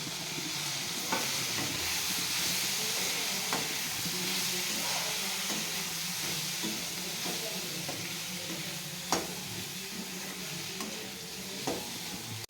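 Tomatoes with a handful of grated coconut sauté in a pan for chicken gravy, giving a steady close sizzle with occasional stirring scrapes and clinks throughout, no voices.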